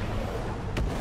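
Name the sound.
Katyusha rocket artillery firing in a video game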